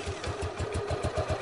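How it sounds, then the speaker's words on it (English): A motorcycle engine cranks on its electric starter button and catches, giving a rapid, evenly pulsing mid-pitched chug close by with no talking over it. "And now he'll just push the yellow button with his thumb to start the motorcycle."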